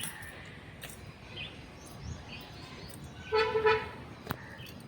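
A car horn honks as the vehicle arrives, two short toots close together partway through, heard at moderate distance over quiet outdoor background with faint birdsong and distant road noise.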